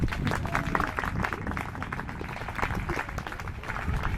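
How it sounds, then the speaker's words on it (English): A crowd claps steadily throughout at a high school marching band event, a dense patter of applause with no voices standing out. "You can clap if you want."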